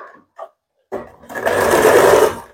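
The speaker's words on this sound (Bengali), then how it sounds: "মেশিনে আগে সেলাই করে নিচ্ছি" A sewing machine stitches a size 32 princess-cut blouse: two brief light taps, a short pause, then a steady close whirring run of needle strokes.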